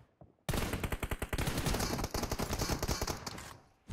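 Rapid automatic gunfire in PUBG Mobile, a sustained, loud burst of evenly spaced shots lasting several seconds after a sudden start.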